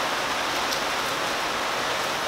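Rain falls steadily outdoors, a dense continuous hiss with no break and no voices.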